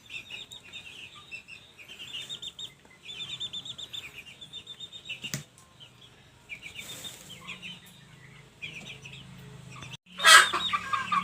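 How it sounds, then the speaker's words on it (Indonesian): Young chickens about a month old cluck and chirp in a backyard flock, scattered soft calls coming in bursts, then a louder squawk near the end. "Dan ayam ini nampak takut dengan ayam-ayam yang lain karena ini baru kemarin teman saya kasih kepada saya"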